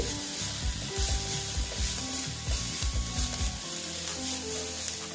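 Turmeric powder is stirred into a sizzling mixture in a pan for egg and potato chops. Close, busy frying comes with clustered stirring scrapes that ease into a steadier sizzle near the end, with no speech.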